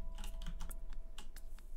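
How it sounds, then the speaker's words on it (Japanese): Soft clicky keystrokes tap at an irregular pace on a computer keyboard while a Garry's Mod game runs, a dozen or so quick key hits close to the mic over a low background hum. "キーボード。"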